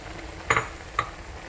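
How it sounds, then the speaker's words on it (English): Cauliflower, broccoli, green peas, chili and cabbage stir-frying for a Chinese vegetable dish, with a soft steady sizzle broken by two quick scrapes of a utensil against the pan, close by. "Now I'm going to add cauliflower and broccoli, green peas and the chili,"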